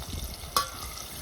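A spoon stirs onions frying with turmeric in a pan, a short scrape and sizzle with one sharper clink partway through, close and moderately loud.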